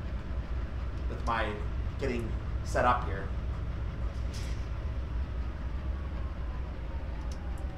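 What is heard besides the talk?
train reversing on Cajon Pass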